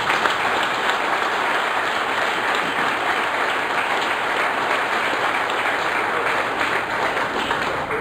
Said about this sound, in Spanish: y solicito un aplauso desde aquí.